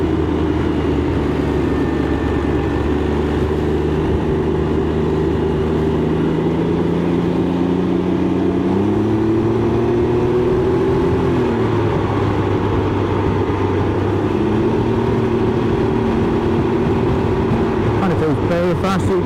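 Can-Am Ryker 900 three-wheeler engine droning steadily while riding on a test route, with pitch shifts as speed changes, close and continuous under wind rush, with someone speaking over it.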